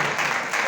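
Short burst of steady applause from people gathered for a cricket message event with teachers, dense and continuous, fairly close.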